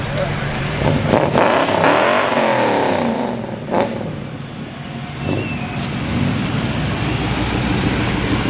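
An Oldsmobile Cutlass rolls through a large outdoor car show of hot rods and muscle cars, its engine rumbling and revving as it passes close by over crowd murmur and nearby talk.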